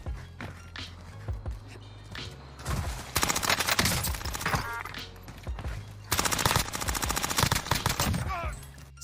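Rapid automatic gunfire in the Warzone video game, bursts of dense, loud shots with a quieter stretch of scattered shots and footsteps between them.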